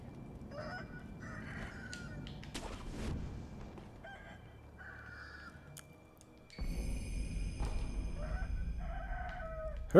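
Chickens in the video game Sekiro: Shadows Die Twice cluck and crow repeatedly over quiet in-game ambience, growing louder partway through, with no talking.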